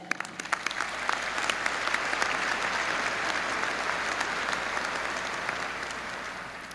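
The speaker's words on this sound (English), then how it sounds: "please share with me in applauding the faculty" Broad, steady applause from a large audience at a university graduation ceremony honoring the faculty, many hands clapping evenly throughout, slightly distant and reverberant.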